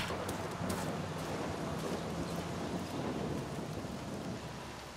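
Heavy rain pours steadily in the Far Cry 6 video game, a dense continuous hiss with low rumbling underneath, fairly faint and unbroken, with no voices.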